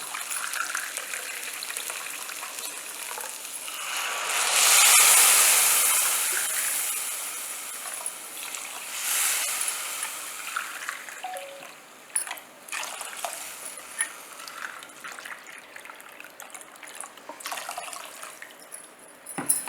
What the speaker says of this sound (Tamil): இப்போ இதுக்கு 4 கப்பு தண்ணி விடலாம்.